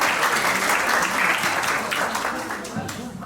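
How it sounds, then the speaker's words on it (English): Audience applause welcoming an eighth-grade student speaker at a school talk event, a full, continuous burst of crowd clapping that holds strong and then begins to taper slightly toward the end. "Applaud her, please."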